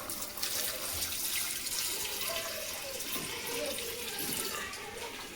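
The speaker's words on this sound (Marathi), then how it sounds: "आता यांना डबल पाणी टाकतं" Water is poured into a cooking pot in a home kitchen, a steady, fairly quiet splashing and trickling stream that runs continuously for several seconds with no talk over it.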